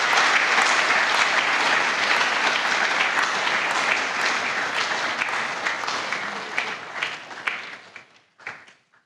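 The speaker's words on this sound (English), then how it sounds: "let's give him another round of applause" An audience at an occasional lecture applauding a lecturer with loud, dense, sustained clapping that slowly thins out and fades, ending in a few scattered last claps.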